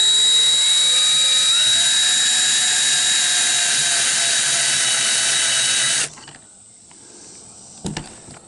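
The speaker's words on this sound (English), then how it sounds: "Here's the countersink part." Power drill countersinking a screw hole in a vintage silverware chest hinge: a loud, steady high-pitched whine lasting about six seconds, then it cuts off, leaving quiet handling sounds and a small clatter.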